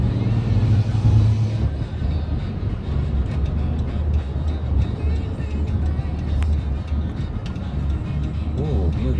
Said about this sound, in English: Ooh, beautiful truck.